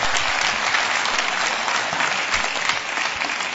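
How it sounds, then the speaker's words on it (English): Audience applause fills a New York hall for the opening act, a poet and performer, with dense, steady clapping from a large crowd throughout, loud and continuous with no voices over it. "Hi, you can applaud."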